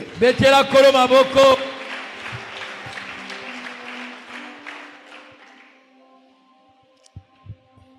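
A church congregation at a Sunday celebration service applauds: a loud voice rings out at first, then many hands clap together in a dense, steady wash that gradually fades away, with a few stray claps near the end.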